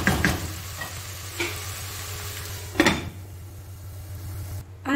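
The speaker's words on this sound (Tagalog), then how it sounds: "Haluin natin, tapos takpan natin siya." Pancit bihon rice noodles with mushrooms stirred in a pan, with a steady low sizzle and a few scraping knocks of the utensil against the metal, close and moderately loud, then quieting.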